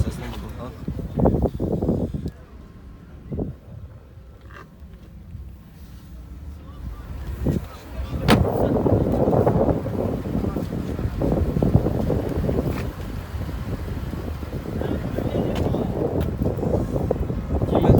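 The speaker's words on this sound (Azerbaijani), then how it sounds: "Maşının arxa səsini buradan." Exhaust from the rear of a used car at the Sumqayit car market, a steady broadband rumble that swells after a quieter start, mixed with gusty wind noise and no clear talk.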